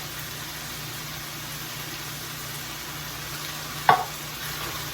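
Pasta with chicken and two cans of tomato soup is stirred in a pot over lowered heat, a steady soft simmer and scraping with one sharp clink of the utensil against the pot near the end.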